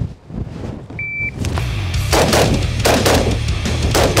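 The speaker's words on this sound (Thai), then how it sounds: "ผมยิงมันหมด8ลูก 8ลูก4วิถือว่าดี" Rapid shots ring out at an outdoor shooting range, several loud sharp cracks in quick succession over a steady background rumble, after a short electronic beep.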